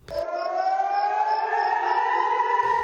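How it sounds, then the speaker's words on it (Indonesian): An air raid siren warning of a drone attack wails loudly and steadily for nearly three seconds, its tone slowly rising, with a short break of noise at the start and end. "tak lama sirine serangan pun berbunyi"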